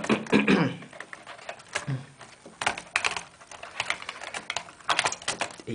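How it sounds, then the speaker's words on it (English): A laptop keyboard is handled and set back into its recess, producing a series of light plastic clicks, taps and rattles in irregular bursts, close and fairly soft, with faint handling noise between them. "Then you just lay the keyboard back in."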